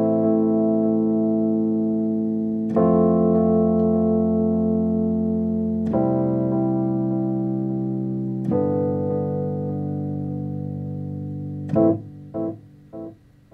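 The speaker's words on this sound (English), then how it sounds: "You can hear how that delay adds a nice effect to the end of that electric piano." A Fender Rhodes-style electric piano runs through reverb, drive and dotted-eighth delay, playing four sustained chords of about three seconds each, then a final chord whose delayed repeats echo and fade.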